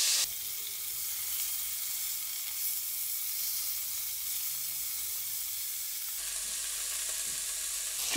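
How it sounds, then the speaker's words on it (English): Rabbit pieces browning in paprika-infused oil in a pan for a Spanish-style stew, a steady close hissing sizzle throughout that brightens and sharpens near the end, with no voices. "Just take your time browning off your rabbit, 5 or 10 minutes, whatever it takes."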